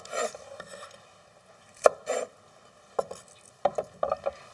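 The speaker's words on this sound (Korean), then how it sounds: "그냥 한 3, 4cm 이렇게 먹기 좋은 크기로 그냥 썰어주세요" A knife chops water dropwort (minari) into short 3–4 cm lengths on a cutting board, giving sharp, separate knocks in irregular bursts with quiet gaps between.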